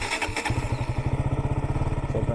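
A motorcycle engine starts up and settles into a steady, near, loud idle with an even throbbing pulse, after a brief whir of the starter.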